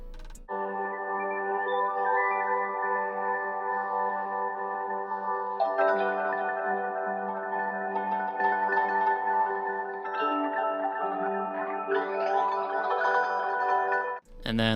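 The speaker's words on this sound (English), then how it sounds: "Then I went on Splice and found this kind of like textural pad." Sustained ambient synth pad from a sample library, a soft textural chord bed that holds steadily and shifts harmony a couple of times, with airy shimmering upper tones swelling near the end; no voices.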